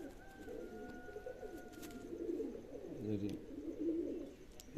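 Pigeons coo softly in a pigeon loft, repeated low burbling calls rising and falling through the clip, faint and close, with a few other small sounds around them.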